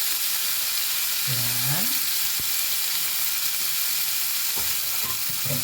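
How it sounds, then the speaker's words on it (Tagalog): Fresh cherry tomatoes sizzling in a pan with salmon, a steady bright frying hiss throughout, with a short spoken word and a few clinks of utensils breaking through. "ilalagay na natin yung ating fresh cherry tomato"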